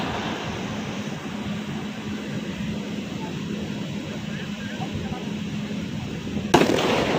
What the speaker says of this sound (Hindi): धमाका, जोरदार धमाका हुआ ट्रांसफार्मर में और आग लग गई है।